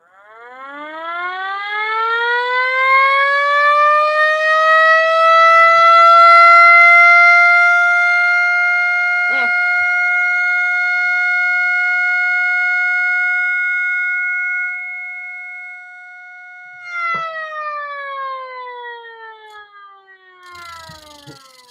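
A 3D-printed miniature STH-10 civil defense siren winds up to a loud, steady wail that holds for several seconds and then drops in pitch. A second shorter wind-up follows before it fades near the end, with no voices.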